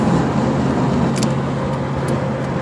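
Truck with a slipping transmission droning along, a steady low engine and drivetrain hum with road noise, continuous and moderately loud, with a few faint clicks.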